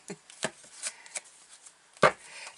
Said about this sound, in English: It shuffles better in reverse this way when the cards are facing you.